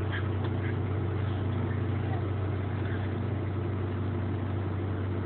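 A John Deere tractor engine runs steadily through its muffler, a loud continuous low rumble with no break in rhythm, close by for the whole stretch.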